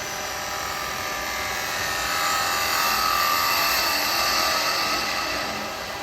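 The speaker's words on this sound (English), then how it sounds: "We move this round and face off the front. So I'm going to just use a spindle gouge." A wood lathe spins while a spindle gouge faces off the end grain of a turned snowman hat, producing a steady, fairly loud whirring hiss that swells slightly in the middle and holds without a break.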